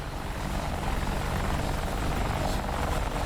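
AH-64D Apache helicopter in the DCS flight game, rotors and turbine engines running at steady loud level with a continuous thrumming wash and no voices.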